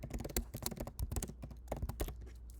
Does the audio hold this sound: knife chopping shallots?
no